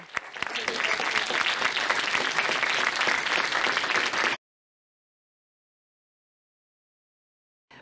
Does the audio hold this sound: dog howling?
no